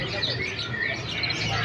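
A canary's bright, busy song with rapid chirps and trills, fairly close, continuing over a dense background hum throughout at a bird market.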